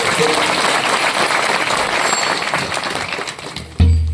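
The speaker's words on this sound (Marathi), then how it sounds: "पुन्हा एकदा टाळी वाजून स्वागत केलं" A kirtan audience claps in welcome, a dense, continuous wash of many hands that fades slightly before stopping abruptly.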